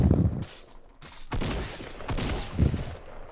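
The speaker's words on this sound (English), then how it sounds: "That kid was shooting me with a shotgun" Gunfire in the Fortnite battle royale game, with a shotgun among the weapons: several loud close blasts in quick bursts over the clip, with no speech.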